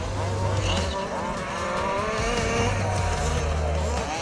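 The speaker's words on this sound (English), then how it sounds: "We race 5th scale remote control cars which are driven by petrol engines." Petrol-engined 5th scale remote control off-road cars, including 4-wheel drive buggies with 26 size engines, race on an RC club track, their small two-stroke engines buzzing and droning together at steady high revs, with a few pitch rises throughout.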